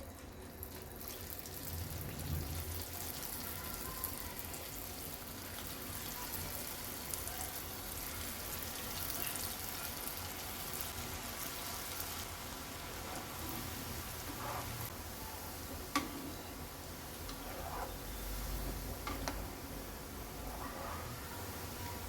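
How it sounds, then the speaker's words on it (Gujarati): Veg Manchurian balls deep-fry in hot oil, a soft, continuous bubbling sizzle that stays low and even, with one small clink partway through. "તેલ ગરમ થઈ ગયું છે, તે મંચુરિયન બોલને આપણે તળી લઈએ."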